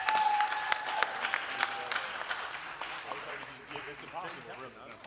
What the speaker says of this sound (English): Please give a round of applause for all of these amazing actors.